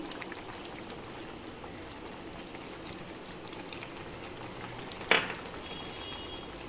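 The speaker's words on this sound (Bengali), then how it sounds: "বন্ধুরা, ঝোলটা কেমন ফুটছে দেখো।" Magur fish curry gravy with gondhoraj lemon simmers in a pan, giving a faint, steady bubbling hiss with one brief utensil clink near the end.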